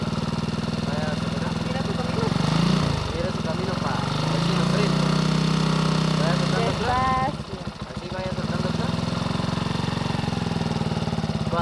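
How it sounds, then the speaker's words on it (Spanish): A motorcycle engine revs and accelerates as the clutch is let out during a riding lesson, loud and close with a drop and swell midway, while people talk over it. "usted va a ir soltando el clutch y acelerando"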